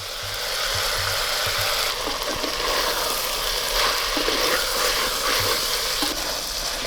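Ground spice paste frying in a clay pot over a coal stove, with ginger and garlic already browned: a loud, steady sizzle broken by faint scraping and stirring clicks, with no talk.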